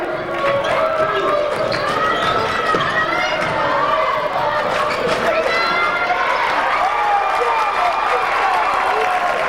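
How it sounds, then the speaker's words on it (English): Fans at a 1998 high school boys basketball district final between Westport and Indian Lake keep up a steady roar in the gym, with shoe squeaks and dribbles on the court under continuous commentator talk. "Indian Lake fans are anxious for this. They're cheering everything that happens on the floor here in the early going."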